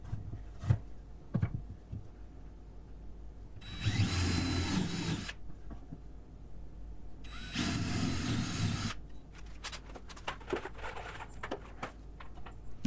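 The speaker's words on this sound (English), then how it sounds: "I can get a good vertical drill into the board itself" A power drill bores vertical holes into a wooden board while a patio table with ice box is built, two sustained whirring bursts of several seconds each, close and loud, separated by quieter handling clatter and taps.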